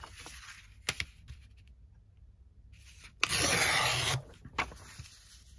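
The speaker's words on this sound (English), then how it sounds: "This is way too big, of course, so I'm just gonna rip it." Scrapbook paper torn by hand, with a few short rips and rustles and then one longer, louder tear of about a second, heard close with no talk.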